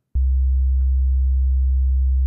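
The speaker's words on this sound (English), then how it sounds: "So that's just a standard deep bass sound." A deep synthesized bass tone, dropped two octaves in Ableton, sounds as a single steady sustained note that holds loud and unchanging for about two seconds after a brief onset click, with no voices.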